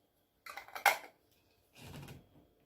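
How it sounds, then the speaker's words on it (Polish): A metal lid is screwed onto a small dry glass jar of homemade blueberry juice, heard as two short, close scraping and clinking twists separated by a brief pause. "Teraz jak już mamy taki suchy słoiczek, to bierzemy pokrywkę i zakręcamy."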